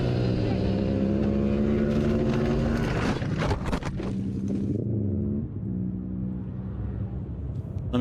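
A race car drives hard around the Blackhawk Farms track at a season-finale race, its engine a loud, steady droning rumble that rises and falls in pitch as it is driven deep into the corners.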